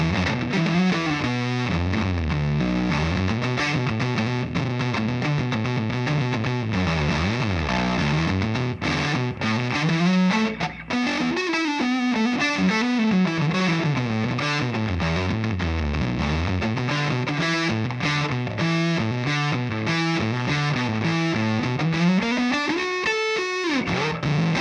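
Electric guitar played loud through a Berch Audio RAT'leth distortion pedal, a thick, heavily saturated tone with chugging riffs and sliding bends that runs unbroken for about twenty-five seconds with no talk.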